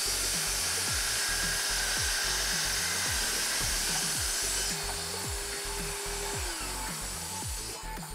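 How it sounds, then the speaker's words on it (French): A circular saw whines steadily while repeated cuts bite into wood, the motor pitch dipping with each pass, loud and close throughout. "on va faire le même test avec la scie circulaire, donc avec et sans aspirateur"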